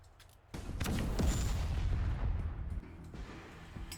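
Gunfire and heavy booming shots in a Wasteland 3 combat scene, a loud sustained burst of blasts and rumbling impacts after a quiet start, fading toward the end.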